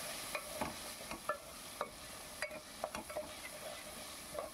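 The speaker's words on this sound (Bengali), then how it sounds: "দেখুন, খুব সুন্দর করে আমি ভেজে নিচ্ছি আলুগুলোকে।" Potatoes frying in hot oil with a steady sizzle, broken by irregular scraping knocks of a spatula stirring them in the pan, close and moderately loud with no talking.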